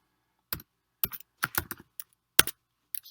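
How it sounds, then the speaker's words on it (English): Keys on a computer keyboard are tapped in short, irregular clusters as a library card number is entered, crisp and close in a quiet room with no talking. "So we'll type in the full library card number,"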